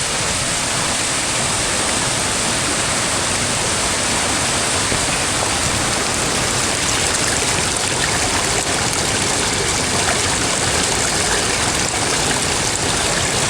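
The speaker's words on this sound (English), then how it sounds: "You come and you just fill up and drink straight from this mountain water." Mountain stream water pours and rushes steadily beside a New Zealand backcountry hut, a loud, continuous broadband roar with no pauses or voices over it.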